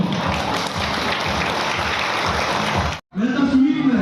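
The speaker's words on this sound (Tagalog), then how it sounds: "Palakpakan po." A crowd at a pageant-style event claps steadily for contestants making their entrance, broad and sustained, cut off abruptly before a voice takes over on a microphone.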